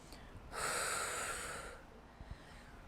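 A single loud, breathy exhale or snort of about a second comes from a person doing a seated chair workout, close to the listener and followed by quiet.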